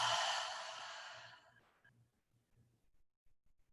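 A slow, audible exhale through the mouth during a guided yoga breathing exercise: a soft, breathy rush that fades over about a second and a half, followed by near silence with faint low rumbles.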